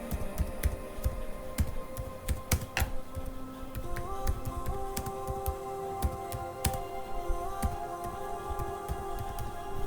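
Keys clatter on a computer keyboard as text is typed into a Windows 10 video editor, quick irregular taps close by over a faint background hum.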